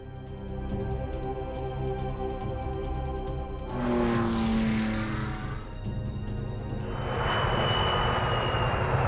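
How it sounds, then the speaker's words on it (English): Aircraft engines drone and sweep past in the Rise of Nations strategy game as warplanes fly in to attack a target, a steady roar rising with a passing whoosh over continuous game sound, no voices. "planes will fly directly to the target and attack"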